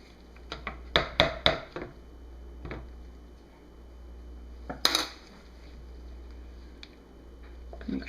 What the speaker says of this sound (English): Wipe off one of my spatulas.